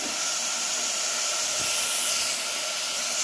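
Chicken frying in a pot for homemade soup, giving a steady, dense sizzle and hiss that holds constant and close throughout.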